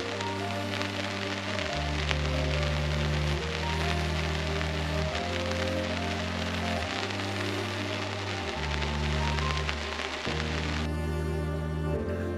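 Steady rain patters densely on a surface throughout, a continuous hiss with a low droning hum running underneath.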